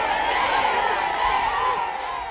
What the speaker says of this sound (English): Down the street they swept, surrounded by a cheering throng.